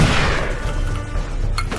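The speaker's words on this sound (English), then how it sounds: "Grenades in this game are very glitchy" Grenades go off in the shooter game Darkest of Days: a loud, dense, rumbling blast with crackling debris that carries through the whole burst.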